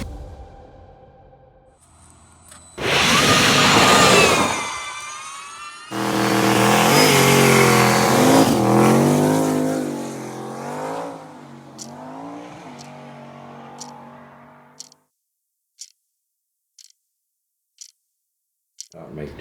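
A race car on a test run accelerates hard in two loud, rising engine surges, then fades out, leaving only sparse faint clicks.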